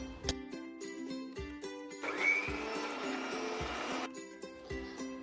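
A kitchen blender grinds coconut, turmeric and water into a smooth paste, a steady whirring burst of about two seconds set between quieter clinks and kitchen noise.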